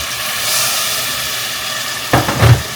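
Masala for veg biryani sizzles steadily in a pan until a spoonful of hot water hits it, setting off a sudden loud hissing burst of steam and spitting that swells briefly near the end.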